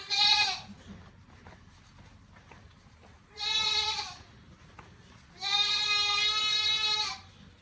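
A goat in heat bleats on a farm: three loud, harmonically rich calls close to the microphone, the first short, the second brief and the last drawn out, with quiet gaps between them.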